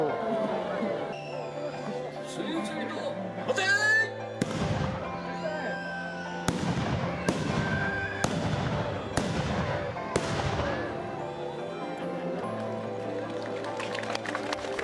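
Matchlock guns fired one after another in a samurai battle tactics demonstration recreating the Mito Rebellion, several loud sharp reports spaced a second or two apart over a steady crowd murmur and ambient noise.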